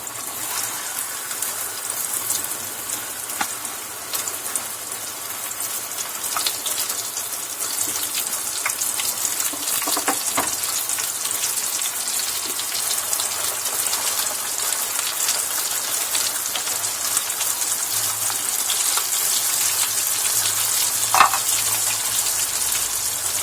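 Marinated chicken breast frying in hot oil for a zinger sandwich, a steady crackling sizzle of bubbling oil with scattered pops and a few clinks, close and continuous with no talk.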